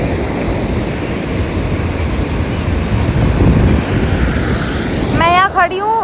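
Ocean surf rolls continuously onto a Goa beach, loud and close with heavy wind buffeting the microphone, and a brief voice surfaces near the end.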